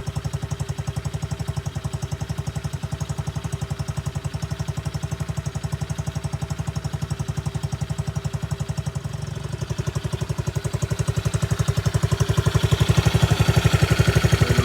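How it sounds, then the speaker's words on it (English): An X-pro Bolt 110cc motorcycle engine idles with a rapid, even putter, nearby and steady, growing slightly louder toward the end. "The motor sounds pretty quiet."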